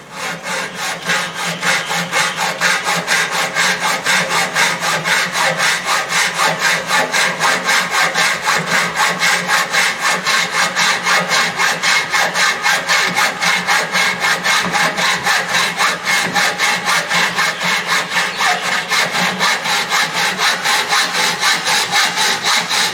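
A hand saw rasps back and forth through an aluminium window frame in fast, steady strokes, loud and close, continuing without pause throughout.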